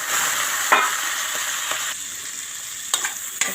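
Prawns fry in a pan with a loud, steady oily sizzle, broken by a few sharp scrapes and taps of a utensil stirring against the pan; no voices.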